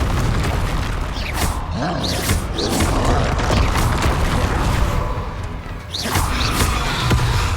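Confringo fire spell explosions in the Hogwarts Legacy video game, a dense loud wash of booms, whooshes and mechanical rumbling with several sharp bursts, continuous throughout.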